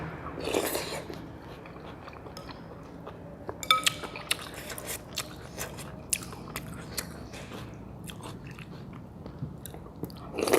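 Crispy fried garlic and crunchy food bitten and chewed close up, with sharp irregular crunches and bites spread across the clip, a few light clinks of dishes or cutlery, and no talking.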